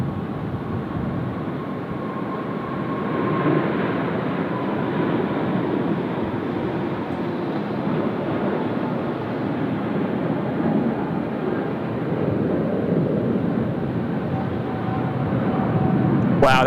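A heavy Singapore Airlines airliner rolls down runway 34 left at Sydney Airport, a broad, steady rumbling roar that holds for the whole stretch and swells slightly toward the end, fairly loud and unbroken.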